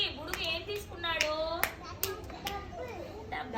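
Children in a classroom clap briefly for their teacher, a few sharp scattered hand claps mixed with close-up kids' voices and chatter throughout.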